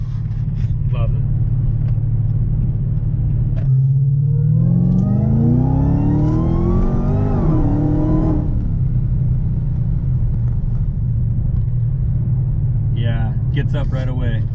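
A heavily modified Dodge Hellcat with a supercharger pulls hard, its deep engine rumble rising into a climbing supercharger whine that peaks and drops back, heard from inside the cabin under steady road drone.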